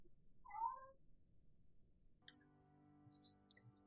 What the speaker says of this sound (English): My cat was chasing a bug.